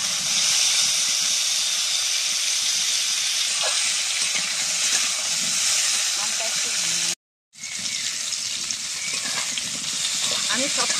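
Mango pieces fry in hot oil for chutney, a loud continuous sizzle and hiss with occasional stirring scrapes and one brief dropout.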